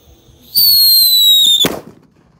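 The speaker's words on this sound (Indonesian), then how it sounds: "Lanjut kita nyalakan mercon super kaget jumbo" A loud, rising whistle lasts about a second, then ends in a sharp, single blast of a jumbo firecracker at night that fades quickly into quiet.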